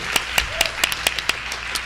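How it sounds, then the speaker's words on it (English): A school board meeting audience applauds a conference champion football team with a short burst of scattered, moderately loud clapping, a few distinct claps standing out from the rest. "So give them a round of applause."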